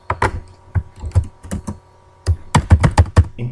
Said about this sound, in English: all you do is type in the word James